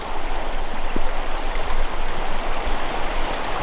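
The Vire river flows steadily upstream from a riverside spot, a continuous close rushing wash of water with no talk.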